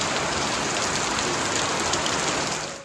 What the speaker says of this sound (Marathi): गावाकडे पाऊसमध्ये थांबलेला परत पाऊस सुरू झालेला आहे मजबूत